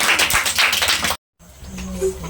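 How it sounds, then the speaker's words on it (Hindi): Children clap together in a classroom, a brief burst of dense, bright claps that stops abruptly. After a short silent gap, quieter room noise follows. "ताली बजाइए बच्चों"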